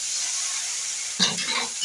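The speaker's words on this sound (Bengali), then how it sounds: "পেঁয়াজ পুড়ে যাচ্ছে রে।" Onions frying in a pan as spices cook down: a steady close sizzle and hiss throughout, with a brief stirring scrape near the end, no talking.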